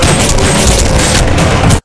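Bomb explosion in a gangster film scene, a loud, dense roaring blast with rumbling debris filling the whole moment before cutting off sharply.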